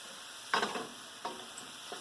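Beef frying in batches in peanut oil in a pan for beef stew, a soft steady sizzle broken by a few brief scraping clatters from stirring, close and without talking.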